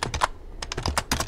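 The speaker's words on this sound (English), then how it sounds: "I know it's a lot typing in here" Someone types on a computer keyboard up close, a quick burst of clicky keystrokes broken by a brief pause, with no voices.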